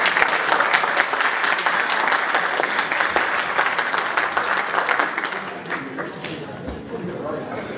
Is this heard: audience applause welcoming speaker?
yes